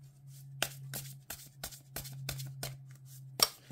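Oracle cards shuffled by hand before a card draw, about ten crisp riffling slaps at an uneven rhythm, close and fairly quiet over a steady low hum, with no talk.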